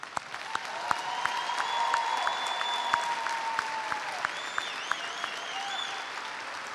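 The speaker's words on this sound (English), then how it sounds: "please join me in a round of applause for this incredible group of seniors" Sustained crowd applause at a high school graduation ceremony for the graduating seniors, steady clapping throughout with a few sharper claps and faint whistles rising above the roar.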